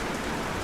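Heavy tropical rain pours down in the Amazon, a dense, steady hiss of drops striking surfaces, loud and close throughout a brief moment with no voices.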